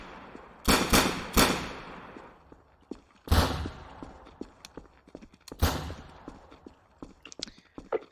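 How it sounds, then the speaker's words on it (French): Heavy gunfire in a WWII German soldier roleplay game: several sharp, loud shots in quick succession, then isolated bursts spaced a couple of seconds apart, with scattered fainter distant pops between them. "Ça tire fort apparemment."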